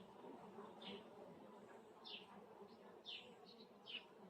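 Honeybees buzzing at a beehive, a faint continuous outdoor drone with several louder passes of individual bees flying close by.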